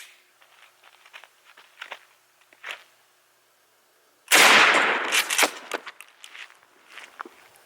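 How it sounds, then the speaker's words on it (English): A 12 gauge Remington 3-inch Slugger rifled slug fired at plywood from about seven yards outdoors, giving one loud, sharp blast with a decaying tail, preceded by faint shuffling and handling sounds. "first up will be the Remington 3-inch Slugger. We're going to be shooting from only about 7 yards away."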